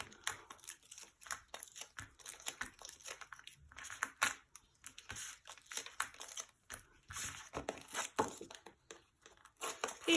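Backing paper being peeled off adhesive foam pads for a handmade greeting card, a series of quiet close crinkles, small tears and rustles, irregular and soft.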